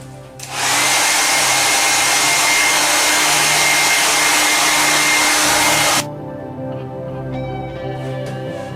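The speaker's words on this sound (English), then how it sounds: "I'm going to run a hairdryer over the top of that, speed up the drying process" A hair dryer roars at full blast for about five seconds, drying paint on cast concrete leaves, a loud steady broadband whoosh that cuts off abruptly, leaving a quieter hum.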